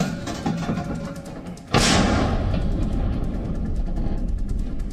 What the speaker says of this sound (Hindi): यूक्रेन युद्ध में रशियन होविट्जर तोपें लगातार अटैक कर रही हैं।